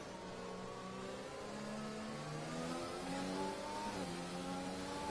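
Race cars in F1 2020 run a formation lap at the Singapore circuit, several engines whining and revving together in a steady, moderately loud drone with pitch swells as cars accelerate, and no talk.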